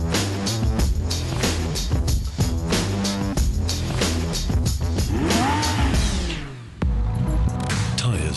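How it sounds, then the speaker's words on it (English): A Lamborghini Aventador drives hard, its loud engine revving and dropping through rising and falling gear changes, with a brief dip and a high tire squeal near the end. "We're still behind the wheel of the Lamborghini Aventador"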